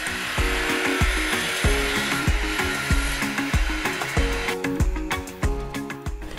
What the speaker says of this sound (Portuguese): Vou cortá-las na minha serra de bancada utilizando o tabuleiro de corte.